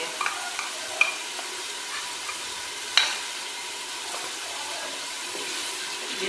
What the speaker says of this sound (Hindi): ये मैं मिक्स कर लेती हूँ।